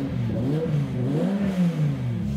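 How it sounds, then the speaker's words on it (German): A naturally aspirated V10 sports car engine starts and revs up and down with a deep, throaty roar, rising and falling in pitch over a couple of seconds, close and loud. "Starte mal den Motor."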